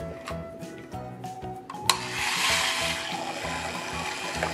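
A Blaze toy speedboat sprays water in a bath, a steady hissing gush starting abruptly partway through and running on over a repeating electronic toy tune.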